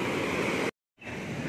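A river flows below a hillside coconut grove, making a steady, dense rushing wash that cuts out to silence for about a quarter second before resuming.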